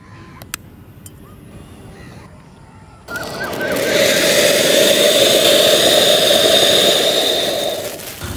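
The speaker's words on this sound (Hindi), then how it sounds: "और अब चलाते हैं इस मटकी वाले अनार को," A pot-type anar fountain firework set off during Diwali erupts after a few quiet seconds into a loud, sustained, roaring hiss that holds steady for several seconds before starting to ease off.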